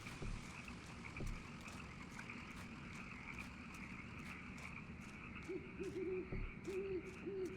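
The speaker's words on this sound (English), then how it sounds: "I hear an owl." An owl in the Kentucky Route Zero game hoots in short repeated pairs late in the scene, faint and distant over a night ambience of croaking frogs.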